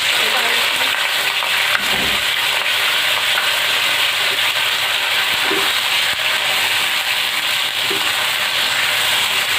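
Chicken frying in a pan gives a steady, close sizzle and hiss that runs without a break. Faint clinks and stirring come through here and there.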